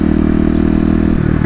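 A Kawasaki KLX250 dirt bike with an EJK fuel controller pulls hard under acceleration, a loud, steady close-up engine drone with rapid firing pulses that shifts pitch near the end.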